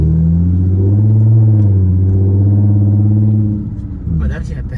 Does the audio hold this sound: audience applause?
no